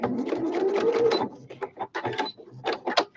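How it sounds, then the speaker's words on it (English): A sewing machine makes a short, rattling mechanical whir while sewing a straight stitch on a machine cover, broken into uneven bursts. "I'm going to do a straight stitch again"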